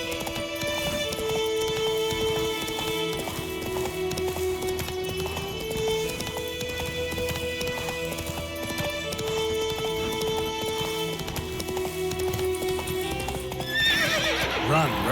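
Roach the horse galloping in The Witcher 3, a rapid continuous clip-clop of hooves under sustained music, ending in a loud neigh near the close.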